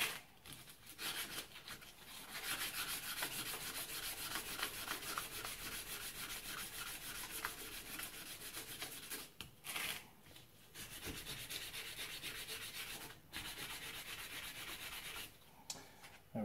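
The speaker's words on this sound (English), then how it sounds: "we'll give a bit of a sand. Get rid of all that rust." Rust being sanded off a Honda CRM250 front brake caliper by hand, a steady close scratchy rubbing that runs almost continuously, with a few short pauses between strokes and no talking.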